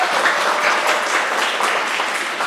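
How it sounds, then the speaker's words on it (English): Audience applause at a school Global Gab event honoring a student, a brisk, even burst of many hands clapping, close and fairly loud throughout. "I think that deserves another round of applause."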